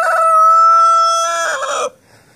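A rooster lets out a loud, close crow with a drawn-out, harmonic call of about two seconds that cuts off sharply, followed by near silence.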